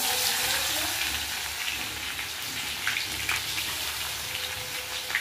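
Mustard seeds and crushed garlic frying in hot oil, a dense, continuous crackling sizzle close up, with some brief louder spits scattered through it.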